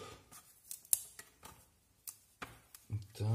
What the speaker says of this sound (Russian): оставить только зелень. И мелко нарубать.